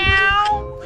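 A cat meows loudly and close, two or three drawn-out tonal calls within a second.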